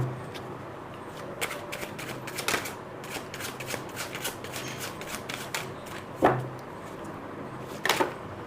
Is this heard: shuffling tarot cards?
yes